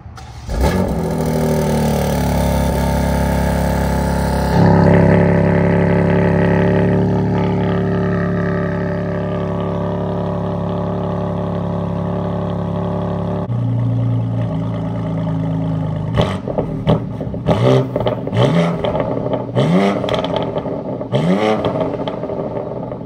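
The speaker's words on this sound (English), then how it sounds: "It's got an Evolution Raceworks mid-pipe, so the car is loud." A BMW with the S58 engine, Evolution Raceworks mid-pipe and competition muffler starts and idles loudly with a deep steady drone, then settles before a series of sharp throttle blips and revs near the microphone.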